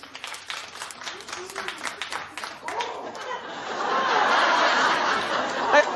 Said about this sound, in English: clap if you watch American Idol